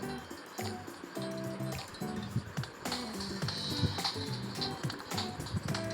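Hands and dishes are washed under running water, with splashing, dripping and wet squishes close by, over a background of tonal music.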